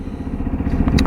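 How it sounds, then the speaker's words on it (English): Lexmoto LXS motorcycle engine revving up close, a loud rough mid-pitched rasp climbing briefly in a short burst, with no talk. "It does sound good when you rev it."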